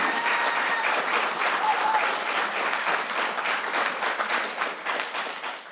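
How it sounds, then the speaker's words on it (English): Crowd applause for Congresswoman Katherine Clark at a Martin Luther King Jr. remembrance event, a sustained, even wash of clapping from a large audience, loud and continuous throughout. "Another round of applause for her."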